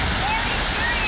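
Fountains splash continuously at Place de l'Hôtel de Ville in Paris, a loud, steady rush of falling water filling the whole moment.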